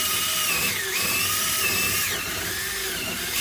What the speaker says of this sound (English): Pop that into the drill, and then that is going to go straight through the plastic handle, like so.